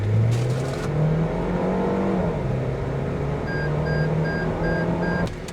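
A 2023 MG RX8 SUV engine pulls hard under acceleration, a steady rising drone heard from inside the cabin, loud and continuous, with a faint beeping chime near the end.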